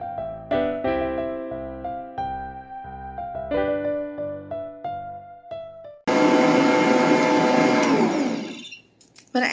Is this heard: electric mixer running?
yes